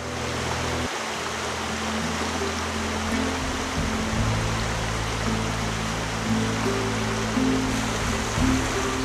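Steady broadband rush of the Snjegotina mountain river, continuous and fairly loud, with a low rumble underneath; no voices.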